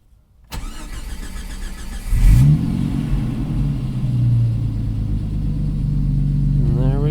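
A Jeep Cherokee XJ engine cranks and catches at close range, then settles into a steady loud idle with a few revs rising and falling, running alone without talk.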